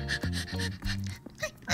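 A small dog pants in quick, rhythmic bursts close by, with short breathy pauses between the breaths.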